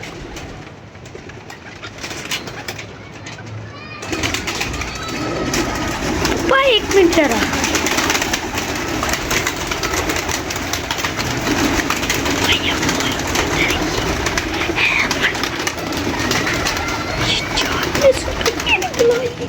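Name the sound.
wild and domestic pigeons cooing and flapping on a roof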